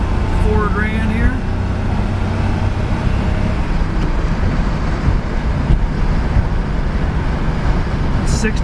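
A 1974 Jaguar XKE Roadster on the road, its engine revved toward about 4,000 rpm, produces a loud, constant drone buried under heavy wind rush and road roar, with a brief chirp early on.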